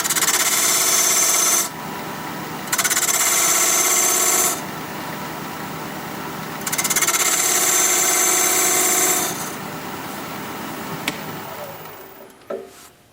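A wooden cup spins on a wood lathe in long bursts of loud, bright whirring and cutting. The bursts are broken by quieter pauses, and there are scraping clunks near the end.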